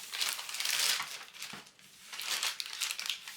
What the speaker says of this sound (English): So what I've decided to do is open it up a bit like that.